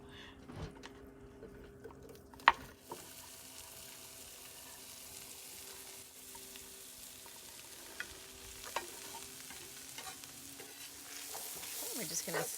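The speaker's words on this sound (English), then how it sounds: "We're just going to stir that all around. And we're going to cook that until the onions are soft." Chopped onions and vegetables sizzle quietly in a skillet over medium heat, a soft steady frying hiss broken by occasional scrapes and clicks of stirring.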